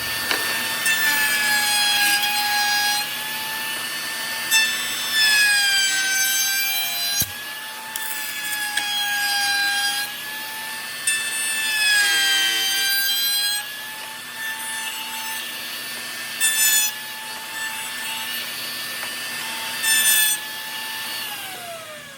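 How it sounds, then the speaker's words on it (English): Router shaping a decorative edge along a scrap 2x4, a loud close high-pitched motor whine that dips and rises in pitch as the bit bites into the wood, with short pauses between passes. "I'm gonna take it over the router, put a nice edge on it"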